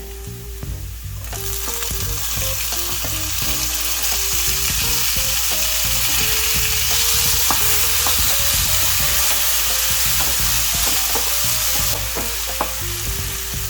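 Tomatoes hit hot oil in a pan while paneer masala is cooked with green chilli, giving a strong, steady close sizzle with stirring scrapes and a faint melody in the background.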